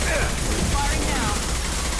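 Rapid automatic gunfire from the Mass Effect 2 video game rattles in a dense, continuous burst, loud and close, lasting a couple of seconds.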